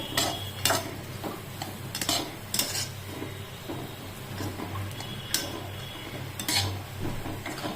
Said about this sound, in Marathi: आता हे पण मस्त लालसर रोस्तर भाजून घ्यायचे आपल्याला या तुपामध्ये छान परतवून द्या परतवून द्यायचे